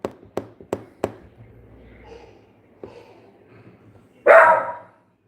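A dog barks four times in quick succession, moderately close, then gives a single later bark and a louder final yelp or bark, with faint background sound in between.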